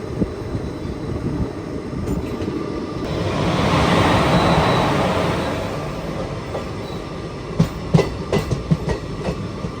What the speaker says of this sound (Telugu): బేసిక్గా ఈ ట్రైన్ ఉంది కదా, ఇది వచ్చేసి శబరిమల స్పెషల్ ట్రైన్ అనమాట